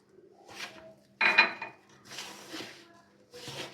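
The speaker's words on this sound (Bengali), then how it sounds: "এরকম করে একসাথে সব ভালো মতন মিশিয়ে এখন অল্প অল্প করে জল দিতে হবে," Batter for pea-filled luchi being mixed by hand in a bowl, with a few separate bursts of scraping and clinking from a utensil against the vessel, close and moderately loud with no talk.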